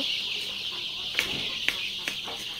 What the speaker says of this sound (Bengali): এখানে রয়েছে টাইগার মুরগির বুডিং করা 10 দিনের বাচ্চা